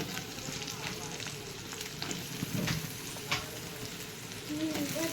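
Potato pieces fry in a pan in a home kitchen, a soft continuous sizzle and crackle with occasional stirring clinks, fairly quiet and close.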